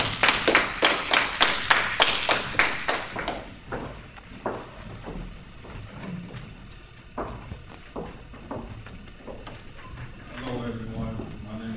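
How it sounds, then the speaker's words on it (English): Audience applause for a student presenter at an essay and presentation event, loud dense clapping for about three seconds, then fading into scattered claps, shuffling and murmured talk. "Let's give him a round of applause."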